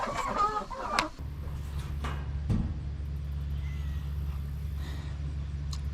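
Chickens in a coop, with new birds among the flock, give a few clucks and calls at first, then a steady low hum continues underneath.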